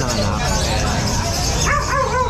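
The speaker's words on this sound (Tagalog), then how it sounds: "Ang dami ni Kuya Chris sa aso." Several dogs at a home with many dogs, including a merle, bark and yip close by, blending into a continuous noisy scene while people talk throughout.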